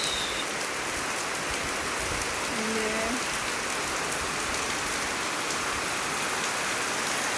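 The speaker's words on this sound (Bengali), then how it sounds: "সবুজ সবুজ গাছগুলোতে বৃষ্টি ফোঁটা পড়লো।" Steady rain falls in a dense, even hiss of drops, continuous and fairly close, with a faint brief tone partway through.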